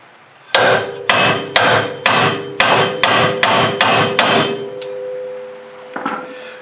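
A hammer strikes metal at the ball joint of a Dodge Dakota during a lower ball joint replacement, about nine loud, ringing blows at a steady pace, close up. A metallic ring lingers after the last strike, then a faint knock follows.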